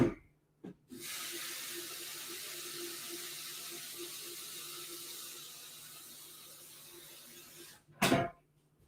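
Chilled water running from a tap into a water reservoir in a household, a steady close splashing stream lasting about seven seconds, followed by a brief clunk of handling at the end.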